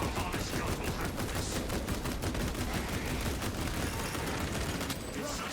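A Techmarine's shoulder-mounted servo gun fires in Space Marine 2 during siege-mode combat, a loud, unbroken stream of rapid shots layered over the clatter of battle.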